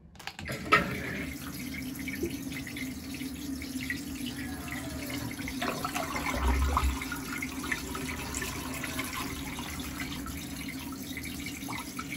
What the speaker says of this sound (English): it has flushed the toilet